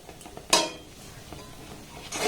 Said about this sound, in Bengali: জলের সাথে আতর চালের গুঁড়িটাকে এইভাবে কিন্তু একটু নাড়াচাড়া করে নিতে হবে